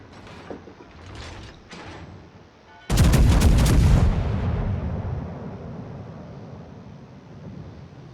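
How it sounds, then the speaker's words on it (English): Battleship main guns fire a loud, sudden broadside in a naval combat video game, a sharp blast with a long rumbling tail, preceded by a few fainter mechanical clicks and shots. "Now you notice Joe is sequential firing."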